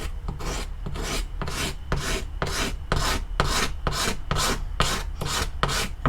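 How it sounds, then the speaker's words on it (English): Rhythmic back-and-forth scraping of a flat razor blade across the oxidized metal surface of a 1974 Honda MT250 part, about a dozen even raspy strokes in steady succession, close and fairly loud with no talking. "take a flat, doesn't have to be that sharp, but just a flat razor blade, and we're going to gently scrape"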